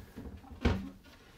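A single galley drawer in the L-shaped galley of a 2021 Beneteau Oceanis 30.1 sailboat slides and bumps to a stop, one short close thud over faint background.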